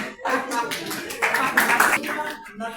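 Hands clapping at a school farewell party, a few bursts of applause-like claps mixed with chatter and speech from people nearby.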